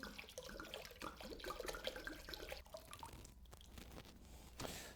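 Old Tom gin pouring steadily into a punch, a continuous splashing gurgle with small drips, fairly quiet and close.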